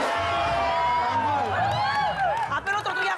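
A live crowd at an Indonesian talk show event cheers and whoops loudly, with rising shouted voices and a general roar of many people over a steady background hubbub.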